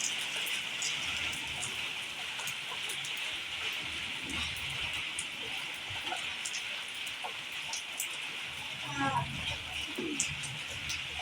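Steady, dense hiss of heavy rain falling on surfaces, continuous throughout, with faint distant bird calls and a brief low rumble near the end.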